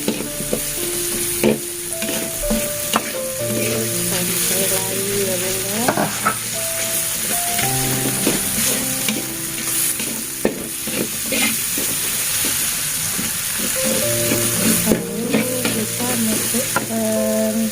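Risoles filling sizzling and being stirred in a frying pan with chopped spring onions and candlenuts, a steady frying hiss broken by repeated scraping and clinking of the spatula, close and continuous with no talk.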